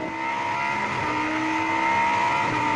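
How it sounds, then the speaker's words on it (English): A Lamborghini V10 race car at Highlands 101 in 2014, its engine howling steadily at high revs as it passes, a loud sustained tone with a faint rise in pitch and no voices. "Love to just have a listen to the V10"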